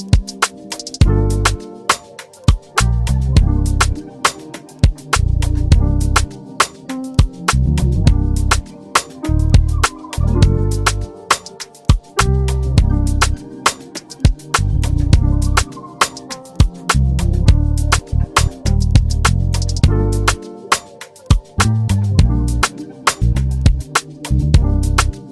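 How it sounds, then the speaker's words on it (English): A muted Patitucci R&B bass preset played in Ableton for a hip hop beat, short plucked, dampened low notes in a steady groove alongside punchy drums, loud and upfront with no talking. "my favorite, like by far one of my favorite bass sounds, I'm gonna just show you guys, is muted Patitucci R&B"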